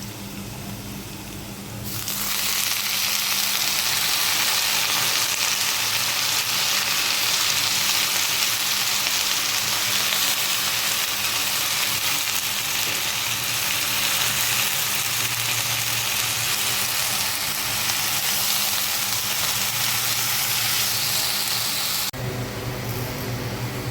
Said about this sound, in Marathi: मी धुतलेली मेथी त्याच्यामध्ये टाकून घेणार आहे.